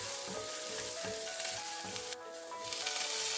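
Curry leaves hit hot oil with golden-brown fried shallots, making a loud dense sizzle with bubbling crackle and a couple of stirring knocks close by.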